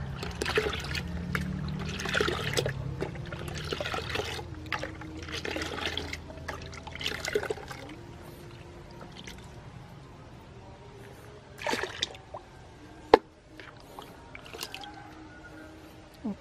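Liquid organic fertilizer nutrient solution being stirred for a hydroponic mix, giving soft sloshing and trickling water sounds with quiet swishes, fairly faint, followed by a few isolated clicks and knocks near the end.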